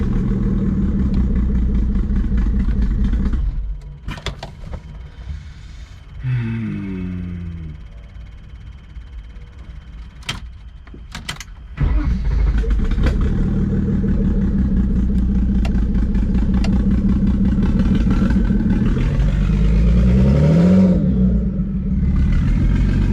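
A turbocharged BMW E36 engine runs loud and rough near by, surging and dropping through uneven revs off idle, with a clattering, lumpy note and a brief quieter dip before the engine roars back up.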